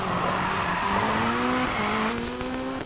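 A Honda Civic engine in Need for Speed Payback revs up and down while cornering, with tire squeal and skidding layered over a steady, loud racing-game engine drone.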